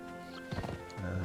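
Horse hooves clip-clop in the game Conan Exiles, a few soft rhythmic steps over a steady droning game soundtrack.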